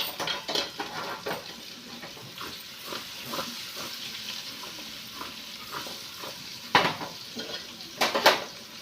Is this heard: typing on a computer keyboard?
no